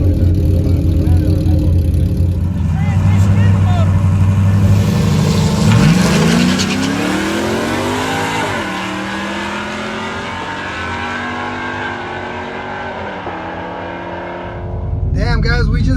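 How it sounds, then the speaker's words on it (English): A Camaro on a new tune roars down a drag strip, its loud engine climbing through rising revs with gear-change dips before easing off, while people talk over it. "we got a race with the Camaro with the new tune"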